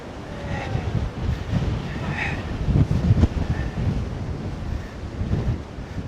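Storm-force wind in the Northamptonshire countryside by a canal roars and buffets the microphone continuously, with gusty low rumbling surges and a faint wash like surf in the background.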